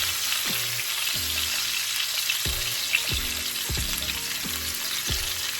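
Stuffed chicken breasts sear in a hot pan with a steady, dense sizzle that runs throughout, broken every second or so by low knocking thumps of the pan or utensil.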